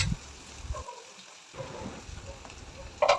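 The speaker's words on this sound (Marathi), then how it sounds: "आता हे दोन मिनटं पुन्हा परतून घेऊया" Garlic, green chillies and capsicum sautéing in a pan give a soft, steady sizzle with faint stirring scrapes, heard close and fairly quiet, with a brief pause in the middle.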